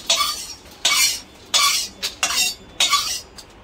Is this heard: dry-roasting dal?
yes